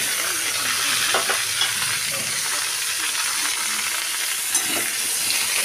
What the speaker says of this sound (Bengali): আলুর সাথে ফুলকপি একসাথে নাড়াচাড়া করে নেব